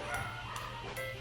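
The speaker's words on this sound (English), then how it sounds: "My dog is barking." A dog barks in short, rough bursts, about three of them, moderately near inside a home, with a steady low background noise and no clear talk.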